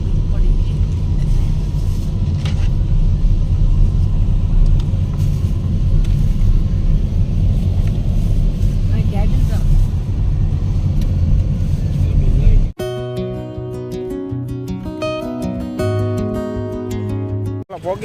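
Road traffic near the Dwarkadhish temple in Dwarka rumbles on continuously with passing cars and engines, a loud steady roar under talking voices, before giving way to a stretch of music.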